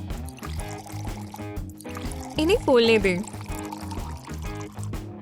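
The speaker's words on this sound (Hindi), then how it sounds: "पानी में और भी इसको डुबो दें" Water pours and trickles over orbeez in a small container to soak them, a light splashing stream running beneath a voice speaking over most of it.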